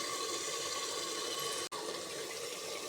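Water pours steadily into a cooking pot for mushroom pulao, a continuous rushing splash heard up close with one brief break, and no talk.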